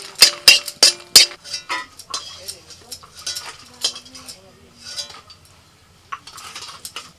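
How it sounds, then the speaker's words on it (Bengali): Green chillies fry gently in a little oil over very low heat while being stirred; a few sharp metal clinks open, then soft scraping and light sizzling continue up close, with no talk. "লঙ্কা এইভাবে অল্প তেলের মধ্যে একদম হালকা আঁচে আস্তে আস্তে করে ভাজতে হবে"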